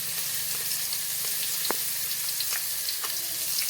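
Cumin, garlic and green chili paste sizzling in hot oil in a kadhai for potato chutney: a loud, steady frying hiss with a few sharp crackles and spatters.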